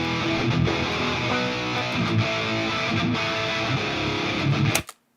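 Low-tuned rhythm electric guitar through the STL Tones Amp Up simulator, a dense, thick distorted chug played continuously and loud before cutting off abruptly near the end.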